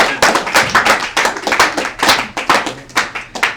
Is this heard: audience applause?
yes